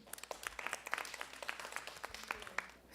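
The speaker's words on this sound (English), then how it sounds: "let's give a round of applause to Dr. Baness King." Scattered, fairly faint applause from an audience at a 2019 women's leadership symposium, with dense irregular claps continuing steadily for about three seconds.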